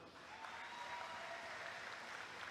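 Steady applause from an audience honoring graduates at a 2022 university graduation ceremony, a dense even wash of clapping held throughout without a break.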